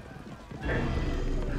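Hooves of a galloping horse in the game Assassin's Creed Origins, a rapid clip-clop that starts abruptly after a brief pause and continues loudly, mixed with a snort and overlapping character voices talking.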